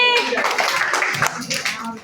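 Children in a handmade-crafts class clap their hands together, a quick scattered patter of small palms mixed with young voices talking over it.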